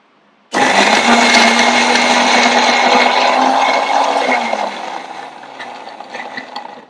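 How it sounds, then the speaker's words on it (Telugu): A kitchen mixer grinder blends vegetarian kimchi paste ingredients with tomato sauce: a loud, whining whir kicks in sharply, runs steadily for about four seconds, then winds down and sputters out. "ఇవన్నీ ఇప్పుడు మనం మిక్సీ చేసుకుందాము"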